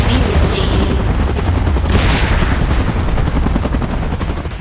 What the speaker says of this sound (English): Chopper in position. Please evacuate immediately.